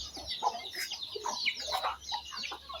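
Chickens cluck and chatter close by while being fed grain, several birds calling in short overlapping bursts against steady outdoor background noise.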